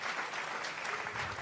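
Church congregation clapping hands together as an offering to God, a dense, continuous burst of applause from a crowd indoors.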